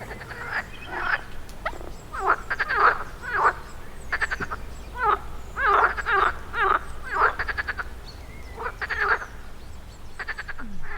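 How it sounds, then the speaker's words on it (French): Frogs and toads croak in repeated bursts, several overlapping rhythmic calls from a chorus nearby, with a faint low background hum and no talking. "on peut entendre en arrière-plan les grenouilles et les crapauds"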